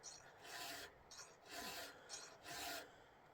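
A chainsaw chain is sharpened freehand with a hand file, giving four steady rasping strokes in an even back-and-forth rhythm, close and fairly quiet with nobody talking.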